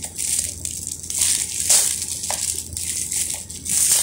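Repeated crunchy snips and crinkling of stiff plastic packaging, close up, in an irregular rhythm of cuts and rustles.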